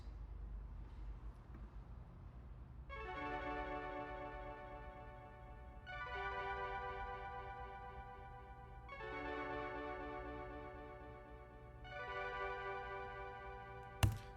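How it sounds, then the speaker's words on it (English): Bright synth pluck from the TH8 plugin by Acoustica Audio, playing repeated short chord phrases in four evenly spaced bursts over a steady low bass bed in a pop chorus, with a single sharp hit right at the end. "So the next element that comes in is this pluck."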